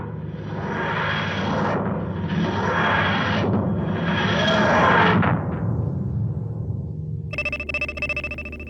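A TARDIS emergency landing sound effect: a loud, wheezing, pulsing roar that rises and falls in several grinding waves, then gives way to a tolling, bell-like electronic tone at the end.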